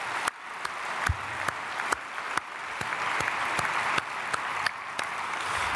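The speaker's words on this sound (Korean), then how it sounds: "우리 크게 박수로 축복하겠습니다" A church congregation at a dawn prayer service applauding in blessing, steady crowd clapping with some distinct sharp claps standing out nearby.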